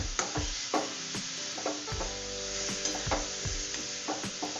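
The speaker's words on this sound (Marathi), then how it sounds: "आणि आता याला चांगलं हलवून मिक्स करून घेऊया याला एक मिनिट परतून घेऊया" Cabbage filling for paratha stirred and sautéed in a pan, with a steady sizzle under repeated scraping and stirring strokes of a utensil, close and fairly loud, no talking.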